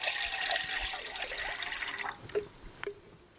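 Water pours steadily into a titanium camping pot, 500 ml splashing and gurgling up close, then tapering off into a few last drips and small splashes near the end.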